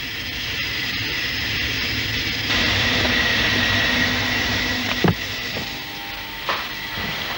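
A train rumbles steadily along the track with a continuous mechanical drone, a couple of sharp metallic clanks standing out near the end.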